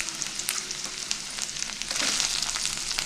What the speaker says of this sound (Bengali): মশলাটার গন্ধটা যাতে চলে যায় ওই জন্যই ভালো করে একটু ভেজে নিচ্ছি